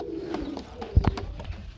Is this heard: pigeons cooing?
yes